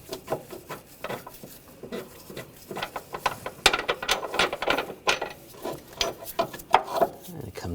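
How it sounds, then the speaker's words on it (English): A ratchet wrench works loose a bolt on the engine torque strut mount of a 2014-2020 Nissan Rogue 2.5L, giving quick, irregular runs of close, sharp clicking and rattling metal with some scraping. "Now switch to a ratchet wrench."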